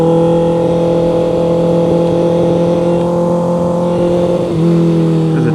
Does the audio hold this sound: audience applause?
no